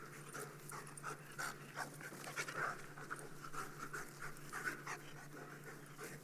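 Several dogs pant steadily and rhythmically at close range, a continuous breathy huffing with a faint whimper, in a quiet indoor setting with no talk.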